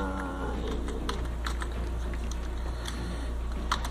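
Keys clatter on a computer keyboard in quick, irregular taps over a steady low hum, close and fairly quiet, with sharper clicks scattered throughout.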